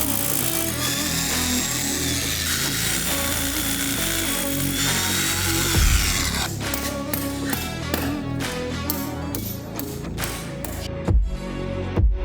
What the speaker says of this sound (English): So I'm just going to send 2 anchors into the floor here.